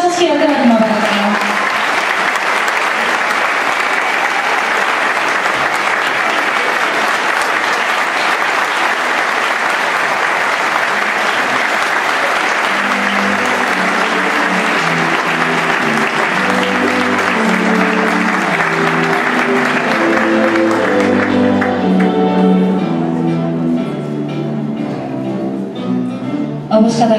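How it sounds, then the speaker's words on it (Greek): Loud, sustained audience applause at a dance academy honours ceremony in Cyprus, a dense wash of clapping that fades near the end as music with sustained tones rises beneath it. "Το πιο δυνατό σας χειροκρότημα, παρακαλώ."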